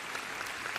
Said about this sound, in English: y'all deserve a bow and a huge round of applause